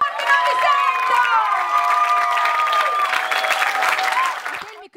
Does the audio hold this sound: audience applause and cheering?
yes